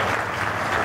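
An audience at a charity concert claps together in a brief, dense burst of applause that is loud and even throughout, with no talking over it.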